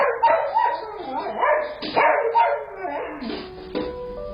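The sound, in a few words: family dog barking and going nuts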